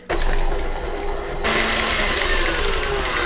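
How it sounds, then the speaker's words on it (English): An electric mixer whisks whipping cream and vanilla for an Oreo filling, a steady loud whirring hum that shifts pitch partway through as the speed changes, running alone without talk. "start whisking it until it's nice and smooth"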